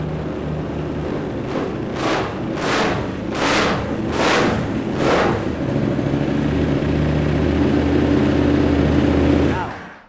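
A GP2-890RR motorcycle fires up with a low steady engine rumble, then a series of five sharp revs rises over the idle before the engine cuts out near the end; a voice is heard talking over it.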